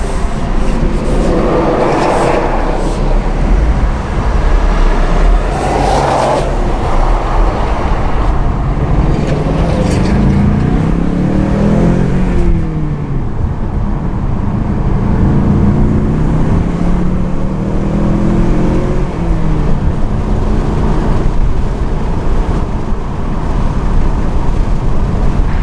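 Ford Mustang 2018 with the 2.3 liter EcoBoost four-cylinder turbo accelerating through the gears, a steady in-cabin engine drone rising and dropping in pitch with each shift, loud and continuous throughout.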